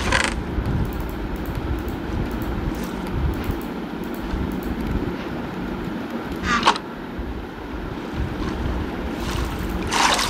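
Boat gliding across water in Minecraft, with a steady rushing, splashing water wash throughout and a few brief bright paddle splashes.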